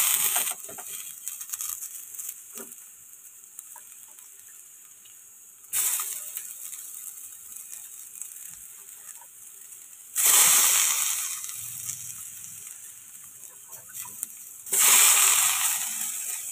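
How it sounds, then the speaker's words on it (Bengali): Soaked soybeans, squeezed of their water, drop into a hot pan with frying potato and papaya, giving two loud bursts of sizzling hiss that fade back to a quieter steady fry. "এবারে সয়াবিন, ভেজানো সয়াবিনগুলো জল চিপে দিয়ে দেবো।"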